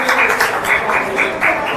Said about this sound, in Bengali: হাততালি মারবেন